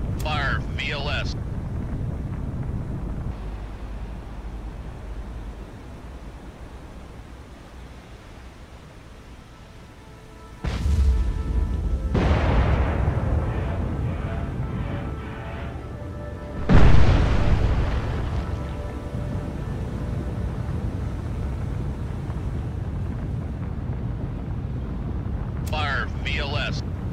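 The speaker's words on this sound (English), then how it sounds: "Fire VLS" Arleigh Burke class destroyer firing VLS missiles in the naval game Cold Waters: heavy roaring launch blasts that kick in abruptly, the second punchier, each trailing into a sustained rumbling rush over a low engine drone, with voices heard at points.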